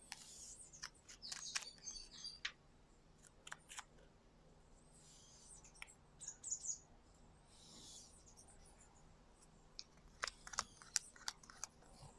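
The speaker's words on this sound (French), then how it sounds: "Je fais doucement parce qu'il y a un oiseau." Small bird feeding near a person outdoors, heard as scattered sharp chirps and faint pecking clicks over a quiet background hiss, with short gaps between calls.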